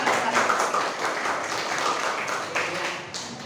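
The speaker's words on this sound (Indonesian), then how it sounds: "Beri tepuk tangan." Classroom applause from a group of students, a steady wash of clapping that holds for several seconds at moderate loudness, with faint voices mixed in.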